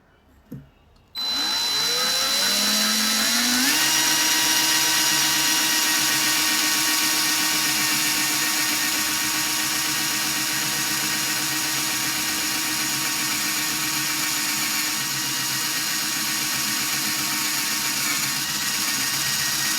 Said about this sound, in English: So I'll be using my portable drill for this